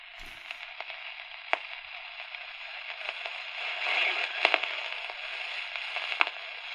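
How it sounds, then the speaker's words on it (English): A Panasonic RF-511 portable AM radio tuned to a faint, distant station gives a steady band of static hiss, broken by scattered sharp pops and crackles at irregular intervals. "Little pops of static here."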